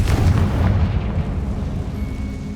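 Confringo spell blast in the Hogwarts Legacy video game: a loud, booming burst with a heavy low rumble at the start that slowly fades into a lingering roar over a couple of seconds, with no talking.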